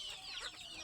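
Native country chickens on a small farm cluck briefly and softly, a short burst of close hen calls.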